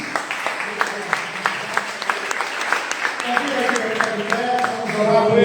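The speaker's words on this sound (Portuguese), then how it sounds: "receber o pastor Alexandre com uma salva de palmas para Jesus?" Church congregation clapping for the pastor during a service, a rhythmic crowd applause that swells toward the end with singing or voices beneath it.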